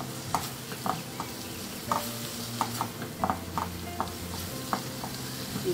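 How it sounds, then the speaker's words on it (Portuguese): Onion frying in butter for a jiló farofa, a steady close sizzle with rhythmic spoon taps and scrapes against the pan repeating throughout, no speech. "Enquanto isso, a cebola frita aqui"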